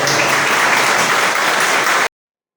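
Steady, dense applause from a crowd at a congress closing session, loud and continuous for about two seconds before cutting off abruptly.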